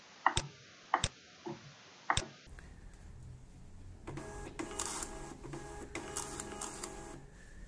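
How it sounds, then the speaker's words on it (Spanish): A Zebra label printer prints labels, starting with a few sharp separate clicks, then settling into a steady mechanical whir with rhythmic ticking as the labels feed through, close and fairly quiet. "lo generamos, vamos a ver, a imprimirlo"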